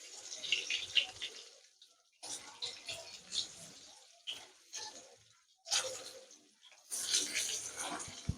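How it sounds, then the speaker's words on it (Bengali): Pieces of pointed gourd (potol) fry lightly in hot oil in a pan, giving soft intermittent sizzling hisses that swell and fade in several bursts, fairly quiet and near. "পটলটা আমি হালকা করেই ভাজবো।"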